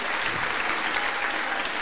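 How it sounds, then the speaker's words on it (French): A hall audience claps steadily and evenly at a face-to-face forum with the Prime Minister of DR Congo, a full, sustained wash of applause without pause. "je vais vous demander dans la salle de l'applaudir, de lui donner du courage"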